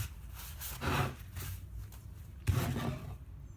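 A rag wipes excess stain off a reclaimed-look wood board in a few rough rubbing strokes, close and moderately loud, with no talk.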